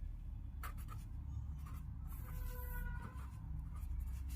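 A pen scratches steadily across paper while an answer number is written on an exam sheet, close and continuous for several seconds with a quiet room behind it.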